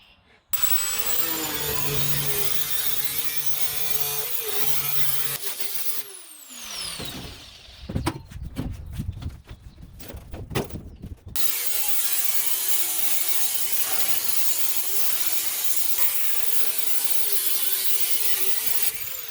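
A metal sheet is sawn for a skoolie roof repair, a loud continuous harsh rasping cut with a noisy clattering break midway before the sawing resumes.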